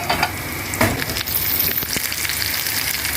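Cumin seeds, curry leaves and garlic fry in hot oil in a pan, giving a loud, close, continuous sizzle with crackles and spoon scrapes for a few seconds.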